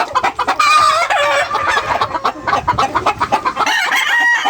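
Chickens and roosters at a poultry farm cluck busily and loudly, with a rooster crowing clearly over the dense, constant flock chatter.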